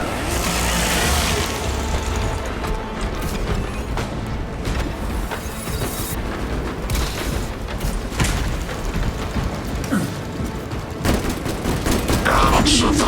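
Sustained gunfire and explosions in the video game Warhammer 40k Space Marine 2, loud and dense bursts of shots with booms throughout, with brief in-game voices under the combat.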